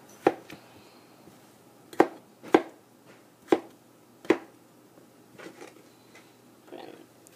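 Knife chopping vegetables on a cutting board for chicken soup, a handful of sharp, close chops spaced irregularly with short pauses, then softer scraping sounds at the end.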